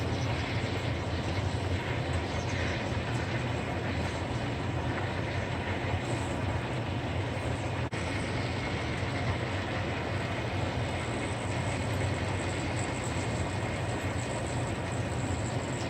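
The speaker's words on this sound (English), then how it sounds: "And I'm going to turn on the vent fan." A vent fan runs steadily in a small workshop where a rusty pocket knife is being preserved, a constant broadband whoosh with low rumble, loud and unbroken throughout with no voices.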